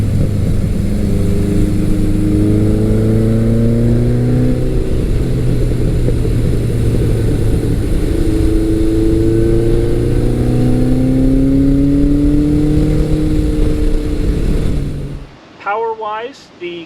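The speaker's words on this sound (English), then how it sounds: "dream day for me is hustling this bike through some back road corners" A Kawasaki KZ1000 or Suzuki GS1100 big-bore motorcycle revving loudly and close, its engine pitch sweeping up and down through the gears before cutting off to quieter sounds at the end.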